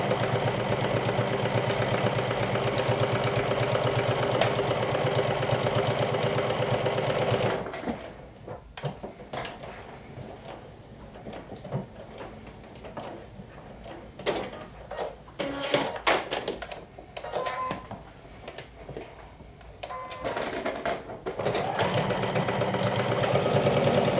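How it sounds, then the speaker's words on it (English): A sewing machine topstitches the seam allowance toward the yoke on a lumberjack-style shirt, running in a steady, close whir for several seconds. It stops for a stretch of quiet clicks and handling noises, then starts running again. "you can top stitch the seam allowance towards the yoke, towards the back"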